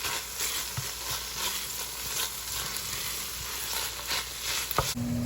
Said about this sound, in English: So we're going to let this tomato paste cook out for about 2 minutes also.